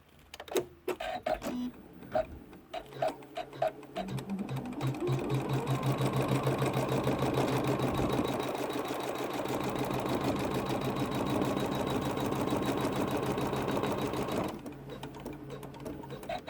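An embroidery machine stitching an in-the-hoop fabric notebook cover starts with a few scattered clicks, then settles into a steady, fast, rhythmic needle chatter for about ten seconds before slowing and stopping with faint clicks.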